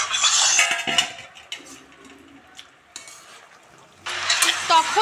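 Chicken 65 masala is stirred in a pan in intermittent bursts of scraping and sizzling, with quiet gaps between strokes and a louder flurry of stirring at the end.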